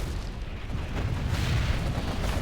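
Explosions in a real-time strategy video game, heard as a dense, continuous low rumble of booming blasts with no distinct separate impacts, loud and sustained throughout.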